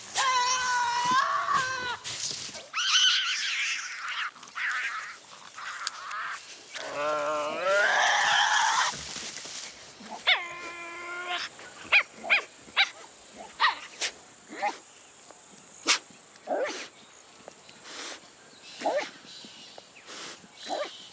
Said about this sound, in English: it's the presence of food that usually leads to many forms of devil communication. Vocalizations are the most obvious.